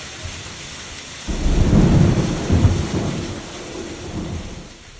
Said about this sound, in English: we all just sat on the front porch and watched this epic thunderstorm to wrap up the night.